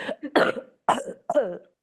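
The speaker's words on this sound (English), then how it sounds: "I'm dying a little bit from the cough." Several short, harsh coughs in quick bursts, close to the microphone, separated by brief pauses.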